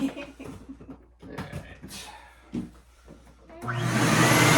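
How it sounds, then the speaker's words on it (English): A household vacuum cleaner switches on near the end of the clip and roars loud and steady after a stretch of casual conversation between people in the room. "I'm fixing to run the vacuum."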